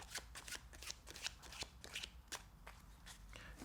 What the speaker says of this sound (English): You can do an overhand shuffle first to show that the cards are mixed.